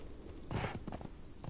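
Horse hooves clip-clop in a video game, a quiet run of uneven thuds with a louder cluster in the middle, heard alone without talk.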